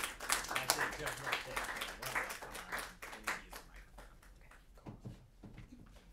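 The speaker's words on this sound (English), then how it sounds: "Why don't we applaud for all our presenters?" An audience applauds presenters at a briefing with Senator Wiener, a dense, steady wash of many hands clapping that gradually thins out and fades, with a few last claps at the end.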